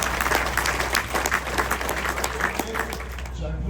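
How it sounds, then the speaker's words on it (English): A grandstand crowd applauds runners at a Tiger Day show: steady, moderate clapping spread across the audience, partly under a talking voice and constant background rumble. "A little round of applause for our runners there."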